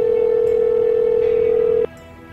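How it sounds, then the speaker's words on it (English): A steady, loud telephone ringing tone hums for nearly two seconds and then cuts off abruptly, close and clear with no voices. "I'm just gonna call her up and read the request as it's ringing"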